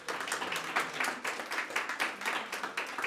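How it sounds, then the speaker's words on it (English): An audience at a talk on Queensland's colonial feminisms claps in a steady, moderately close round of applause that holds throughout. "one more round of applause for Deborah as well"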